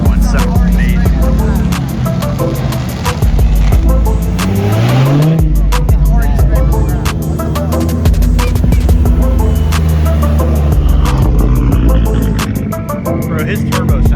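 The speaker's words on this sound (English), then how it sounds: "his turbo sounds so good" A turbocharged Honda Del Sol at an outdoor car show, its engine loud and close, revving and surging with sharp bursts and a rising whine over a constant low roar, with faint crowd noise behind.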